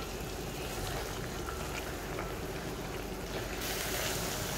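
Chicken drumsticks simmer in a candlenut coconut sauce, a steady dense bubbling hiss that holds at an even level throughout, with no talk.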